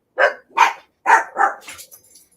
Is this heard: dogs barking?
yes